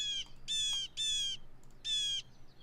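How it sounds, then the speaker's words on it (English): Real bird call recordings played in a board video game: three loud, harsh squawking calls in quick succession, then a short pause and a fourth, clear against a quiet background. "all of the bird calls are real recordings of bird calls, which is super sick"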